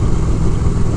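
Triumph Thruxton 1200 cc motorcycle engine with an offset crankshaft running, a brief, loud and steady low rumble heard up close with no voices.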